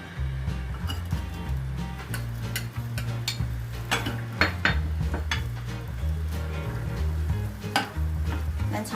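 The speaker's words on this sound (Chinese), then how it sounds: "我们起一个油锅，油少许就好。 先把洋葱放上去炒香" Onions stir-fry in a little oil in a pan, a close steady sizzle broken by scraping and light metallic clinks from the utensil in irregular strokes.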